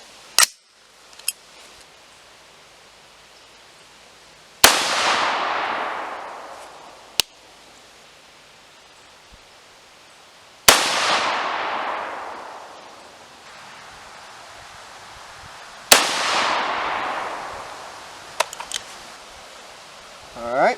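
Three loud, sharp gunshots from a custom AR15 rifle firing .223 Remington reloads at an outdoor range, each with a long decaying echo, spaced several seconds apart among quieter clicks and handling noises.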